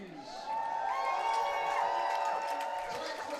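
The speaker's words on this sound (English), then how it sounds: "the Huskies, here they are, fans cheering them on" A high school football crowd at Eau Claire North cheering as the SPASH Huskies take the field at night, a steady broad roar of many voices at some distance, with an announcer speaking over it.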